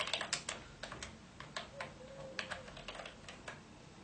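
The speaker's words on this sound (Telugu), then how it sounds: "మరి ఏ పేరు డిస్ప్లే అవ్వాలనుకుంటున్నామో ఆ పేరుని టైప్ చేయాల్సి ఉంటుంది" Fingers typing on a computer keyboard, a quiet, close run of irregular key clicks tapping steadily with no speech.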